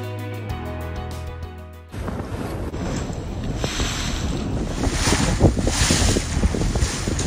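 A motorboat crosses Redfish Lake near Idaho's Sawtooth Mountains with steady engine drone, wind buffeting the microphone and water splashing, loud and close throughout.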